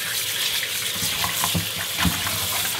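Tap water runs steadily into a sink while squid is washed under it, a continuous close splashing gush with small irregular spatters.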